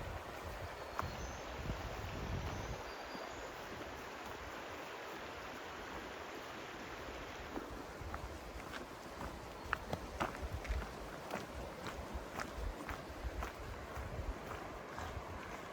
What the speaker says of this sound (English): Love walks like this where you're walking alongside the river and you just get to listen to it the whole way.